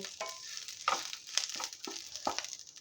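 Curry leaf chutney mixture dry-roasting in a pan, a soft crackling rustle with several distinct stirring scrapes at close range, fairly quiet and without talk.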